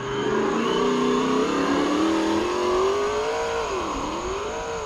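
A simulated Bronco engine from a sound module in an RC car revs steadily, holding a loud, continuous hum that sags briefly and then climbs back up, with no voices over it.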